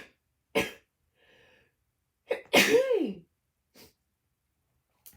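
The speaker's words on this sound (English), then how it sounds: "I'm going to sneeze." A person sneezes once, a loud, sharp burst with a falling vocal tone, preceded by a short intake of breath and faint sounds in a quiet indoor setting.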